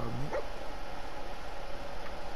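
A dog companion in the game Fallout 4 gives a single short, faint yip or bark near the start, followed by quiet background ambience.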